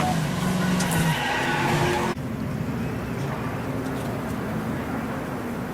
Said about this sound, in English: Hear the tire blow, see the sparks.